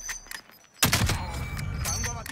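Gunfire in the video game Warzone, a sudden loud burst followed by sustained noisy shooting and game sounds.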